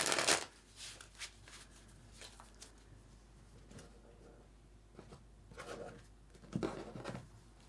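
Tarot cards being shuffled and pulled from a deck: soft, close riffling and papery slides, with a louder shuffle at the start and a few more brushing bursts later, fairly quiet overall.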